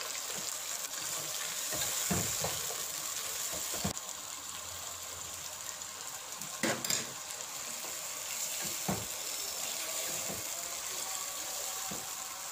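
Mutton frying with garlic-ginger paste for pulao makes a steady hiss in the pan, with intermittent scraping and knocking as it is stirred, close and moderately quiet, no talking.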